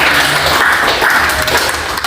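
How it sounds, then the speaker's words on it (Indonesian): A classroom bursts into dense applause, many hands clapping together in a steady, loud, continuous patter for a couple of seconds. "kita berikan tepuk tangan dulu"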